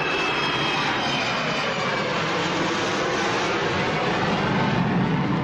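Airplane engines give a steady, loud roar with a broad rushing hiss that holds at an even level throughout, with no voices over it.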